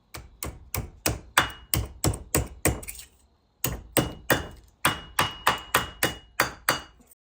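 Metal part from an Oldsmobile differential restoration struck on a small anvil with a hammer: two bursts of steady, ringing blows, about eight in each, separated by a short pause, close and crisp.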